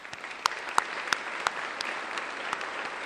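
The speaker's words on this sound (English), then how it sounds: "So for that, please give yourself a round of applause." An audience applauds in a large hall, a soft continuous wash of clapping with a few sharp nearby claps standing out, fairly faint overall.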